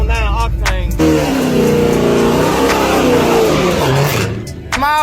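A small-block race car engine running on 109 octane fuel revs hard and loud, nearby and sustained for several seconds, with rising and falling pitch. Brief snatches of a voice come before and after the roar.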